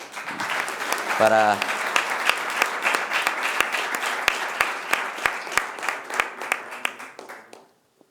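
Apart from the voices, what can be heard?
audience applause for speaker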